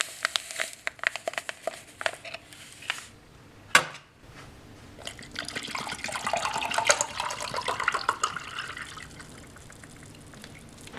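Water is poured into strawberry isotonic beverage powder from a French freeze-dried ration, a close splashing, trickling stream with crinkly packet rustles and a sharp knock partway through.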